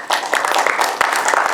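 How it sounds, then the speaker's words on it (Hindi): Audience clapping at an Indian app launch event, a steady, fairly loud patter of many hands filling the short stretch. "ये जो क्लैप आप बजा रहे हैं, मन से बेमन से, मगर आवाज हमारे कानों में सुनाई दे रही है।"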